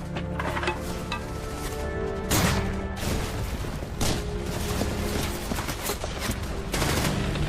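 Enemy fire in a World War II battle with tanks advancing: dense, loud bursts of rifle and machine-gun fire with sharp cracks and crashes, continuous throughout.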